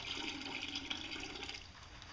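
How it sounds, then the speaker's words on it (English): Water sloshes and pours off gravel material in a gold pan after a hand dredge run, a soft continuous trickling wash heard alone at low level. "Pour some of the water off."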